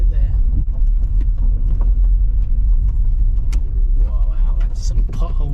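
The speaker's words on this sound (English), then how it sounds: "that's some potholes there" A Vauxhall Zafira car camper jolts over potholes near a car park at St Margaret's Bay, Kent, with a heavy low rumble of tyres and body, sharp knocks and rattles, and a voice near the end.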